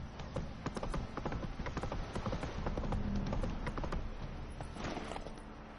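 Horse hooves clip-clop steadily in The Witcher 3 on PS5, a continuous rhythmic run of hoof strikes with a few mechanical rattles, moderately loud over a low game background.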